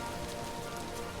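Steady rain pattering down in the survival game Vintage Story, a dense, even hiss of drops on the ground that stays constant throughout, with no other sounds.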